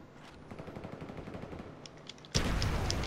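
Gunfire in Call of Duty: Black Ops on a small multiplayer map, a low rumble of steady bursts that jumps to loud, close, dense shooting near the end.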